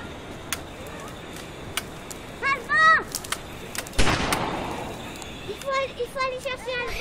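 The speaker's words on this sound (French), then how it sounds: "les coups de feu ont attiré le méchant" A sharp gunshot-like blast rings out, followed by a decaying rumble, amid animated cartoon voices and short sound effects.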